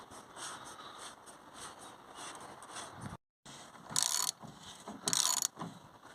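Torque wrench tightening the oil sump plug on a Volkswagen Polo 1.2, heard as close, quiet ratcheting clicks in a steady run, then a short gap and two sharper, louder bursts of metallic clicking.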